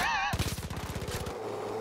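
Automatic gunfire in Far Cry 5 rattles off in one rapid burst of about a dozen loud, evenly spaced shots, cut off abruptly.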